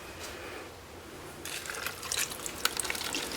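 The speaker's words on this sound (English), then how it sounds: "I'm just going to pour it right around it." Creamy lemon sauce poured into a pan around salmon fillets, a quiet liquid trickle and faint sizzle that begins partway through and continues with soft splashes.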